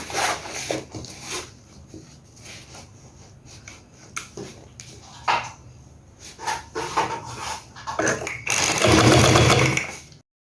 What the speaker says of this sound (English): the first thing I'm going to do is to fold here and sew it down